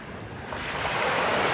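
Wind blows hard at the seaside at Myola, New South Wales, Australia, a loud, steady broadband rush that swells over a couple of seconds, with no voices.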